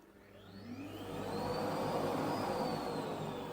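A Philips Marathon Ultimate XB9185/07 bagless cordless vacuum cleaner whirs up from low to a steady high-pitched whine, running alone close by.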